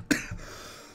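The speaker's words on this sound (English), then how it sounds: "I've got a bit of a chesty cough" A single chesty cough bursts out close and sharp, followed by a softer throaty catch, then quiet.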